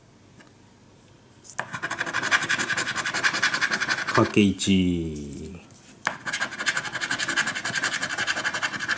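A One Piece Chopper scratch lottery ticket being scratched off, with close, rhythmic rasping strokes repeated in steady bursts, broken midway by a brief clatter and a short spoken remark.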